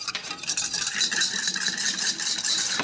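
A whisk beats a vinaigrette dressing with mustard and dried thyme in a bowl, making a close, steady, rapid scraping rattle of wire against the bowl without pause.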